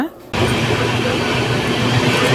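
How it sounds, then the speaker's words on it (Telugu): The Ratnachal Express running on new LHB coaches near Nidadavolu, a loud steady rumble and rattle that starts abruptly after a brief quieter moment and continues with a voice talking over it. "నిడదోలు అవుటర్కి వచ్చేసరికి మన ట్రైన్ చూడండి ఒక బ్యూటిఫుల్ టర్నింగ్ కొడుతుంది"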